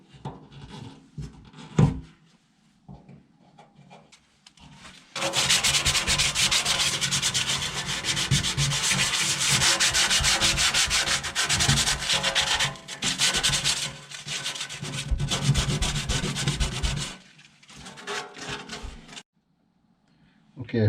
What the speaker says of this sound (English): All I got to do now is rub this down.